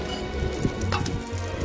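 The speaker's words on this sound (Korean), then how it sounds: "아, 왜 이렇게 비가 오나?" Steady rain falls throughout, a dense broadband patter on an outdoor surface, close and continuous with no voices over it.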